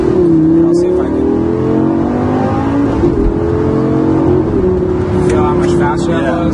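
Lamborghini LP560-4 engine revving hard and loud through quick gear shifts, pitch climbing, dropping at each change and climbing again, with a person talking over it throughout.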